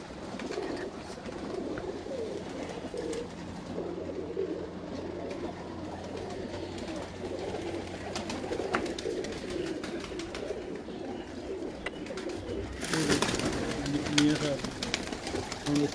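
Pigeons in a breeder's loft coo steadily throughout, close and fairly loud, with people talking over the soft, rolling calls and a brief rise in noise near the end.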